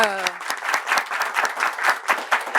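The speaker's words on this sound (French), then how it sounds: "On va applaudir très très fort pour les aigles qui vont jouer à la CAN." A television studio audience claps for Mali's national football team heading to the Africa Cup of Nations. A host's voice opens the moment, then quick, rhythmic clapping follows in uneven bursts.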